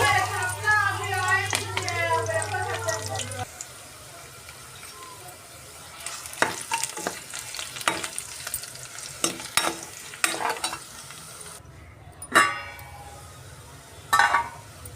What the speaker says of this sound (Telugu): తాలింపులు వేసుకుందామండి